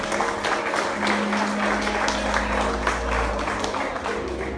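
A church congregation claps steadily during a Spanish-language worship service, with dense applause held at a fairly even level over a low hum and rumble throughout.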